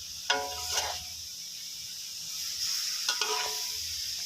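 Papaya and egg being stir-fried in a pot, with a soft continuous sizzle and a few scraping spatula strokes near the start and again later, fairly quiet and without speech.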